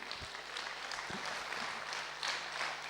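An audience applauds at a talk on business and problem solving, a steady wash of clapping throughout at moderate distance, without voices over it.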